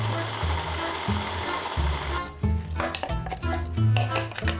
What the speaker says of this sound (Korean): 옥수수를 믹서에 갈아줍니다.